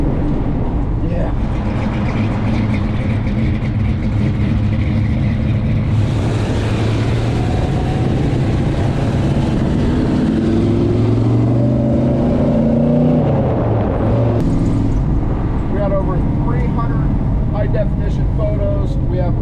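A 1970 Plymouth Superbird clone with a 528 Hemi V8 rumbles loud and close, engine noise rising and falling as it drives, with someone talking over it throughout.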